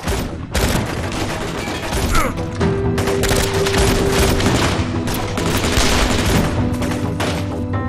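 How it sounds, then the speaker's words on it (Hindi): Sustained machine gun fire, loud and close, with rapid bursts rattling continuously across the whole clip and an occasional heavier boom. "रुकना नहीं, आखिरी गोली तक चलाते रहो।"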